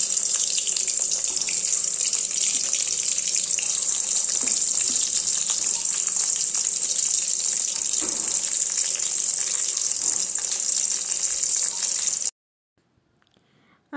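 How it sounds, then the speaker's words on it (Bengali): Vegetable slices such as brinjal and potato frying in hot oil give a loud, steady broadband sizzle with no talk, running continuously for about twelve seconds before cutting off abruptly into near silence. "গরম তেল হয়ে গেছে, তাহলে আমি ঝপঝপ করে ভাজাগুলো ভেজে দিই"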